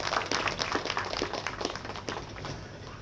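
Audience at a book launch ceremony in Pune claps to welcome an arriving guest, a dense, fairly quiet patter of many hands that continues steadily throughout.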